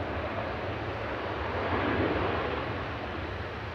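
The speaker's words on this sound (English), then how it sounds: "Ryanair just touching down from Berlin" Ryanair Boeing 737-800 touching down at Manchester Airport from Berlin, a broad even roar that swells slightly midway, like distant wind-blown jet rumble, with no talk.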